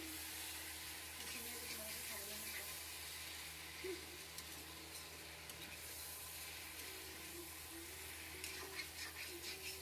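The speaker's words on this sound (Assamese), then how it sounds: "ভাজি আছোঁ, মই বহুত দেৰিৰ পৰা ভাজি আছোঁ।" Meat frying with bamboo shoot in a pan, a continuous low sizzle with faint stirring scrapes, quiet and close, with a soft voice in the background at times.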